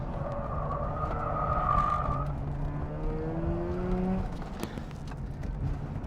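A tuned Mazda RX-8 is driven hard on a track, its engine droning steadily with shifting pitch while the tyres squeal and slide, heard from onboard and fairly faint overall.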